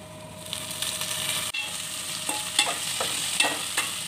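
Curry leaves dropped into hot oil with onions and carrot pieces in a pan, making a steady close sizzle with a few sharper crackles and stirring scrapes.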